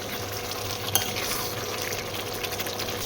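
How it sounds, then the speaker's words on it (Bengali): Mutton stir-frying in hot oil, a dense, steady sizzle with light scraping of the stirring spoon close by, one small sharper spit near the start. "তো এই দেখো কষানো হচ্ছে, এবার চারদিকে ছিটবে।"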